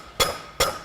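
Two sharp metallic hammer strikes, evenly spaced, as a farrier straightens the branch of a horseshoe with light blows; each ring fades quickly, with no talk.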